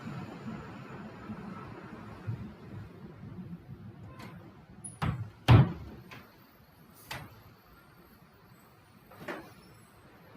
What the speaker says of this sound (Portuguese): Vou só fechar a porta aqui de casa rapidinho.